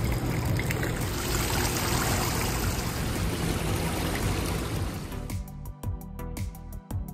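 Water trickles and splashes continuously at an interactive water playground aboard a cruise ship, loud and steady for about five seconds before thinning into scattered drips and splashes.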